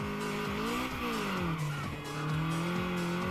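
A front-wheel-drive car in Mountain Pass Racing slides through a handbrake drift, its engine droning steadily with rising and falling revs and tire squeal layered over the loud, close sound.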